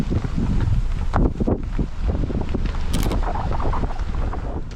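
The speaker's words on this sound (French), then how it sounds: "Ouais, et puis qu'il y a un petit vent." Wind gusts buffet the microphone on a cloud-covered Maui mountain, a loud, uneven rushing roar that rises and falls without speech.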